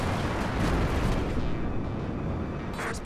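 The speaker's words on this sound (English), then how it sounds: "I've just got to stay out and watch out for the explosions so we don't get destroyed by them." Explosions rumble in the space combat game Strike Suit Zero, a loud, continuous roar of blasts and booms that thins out near the end.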